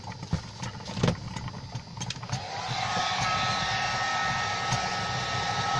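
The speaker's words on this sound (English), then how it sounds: "Make sure when you're using a hot air gun or a hairdryer, you're not getting too close or sticking in one spot of the leather for too long" A hot air gun blows with a steady, loud whoosh as it warms a waxed leather knife sheath, starting after a few handling knocks and rustles and running evenly to the end.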